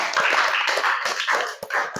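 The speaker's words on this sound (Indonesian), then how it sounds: "Beri tepuk tangan kepada Nur Raisa" Classroom students clapping for a classmate, a short burst of scattered, uneven hand claps at moderate distance, thinning out toward the end, with no talking.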